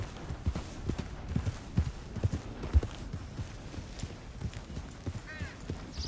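Horse hooves clip-clop steadily in Red Dead Redemption 2, a close, even walking rhythm of hoof strikes over a low ambient rumble, with a brief whinny-like sound near the end.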